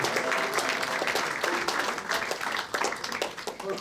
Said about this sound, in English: How about a round of applause for the rest of the band?